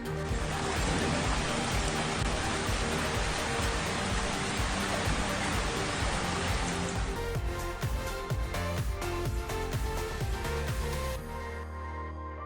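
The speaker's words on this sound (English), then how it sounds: "Rainy weather is especially beautiful" Rain falls steadily in unspoilt natural surroundings, a dense, even hiss that fills the clip before thinning toward the end, where a rhythmic thumping background briefly shows through.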